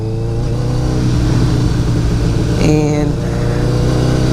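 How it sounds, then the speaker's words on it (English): A motorcycle in first gear pulls away as the clutch is let out slowly under throttle. The engine hums steadily, then swells into a louder rev, close by. A voice speaks briefly. "So you're going to give it gas, let out the clutch slowly."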